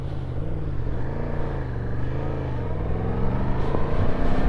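Motorcycle ridden along a road, a close, loud engine drone with shifting revs and steady wind rush, building slightly toward the end, no voices.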